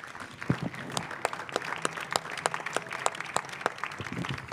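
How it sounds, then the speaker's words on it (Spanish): A crowd at a union gathering claps steadily in tribute, a moderate room-filling applause of many hands with sharp individual claps standing out, heard alone without talk. "un fuerte aplauso para Luisa en forma de homenajearla"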